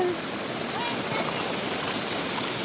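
Water rushes and churns steadily in a broad, even wash at Gokarna as rain begins, a constant loud flow with no breaks, and a voice speaks faintly over it.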